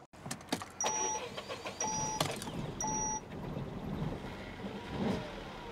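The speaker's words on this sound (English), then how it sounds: "As you can hear, it was a bit lumpy when we started up." A Citroen C4 Cactus with an engine management light on starts up roughly, a short lumpy crank and catch followed by an uneven idle, with a few clicks and faint electronic chimes nearby.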